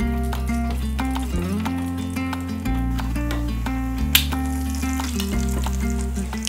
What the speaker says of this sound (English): Make sure you get at least one shrimp inside your spoon and place it inside the oil.